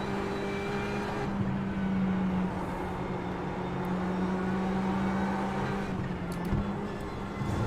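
A Porsche race car in the iRacing sim held at full throttle through curves, a loud, steady engine drone with a sustained low tone that shifts slightly in pitch, continuous and close with no speech.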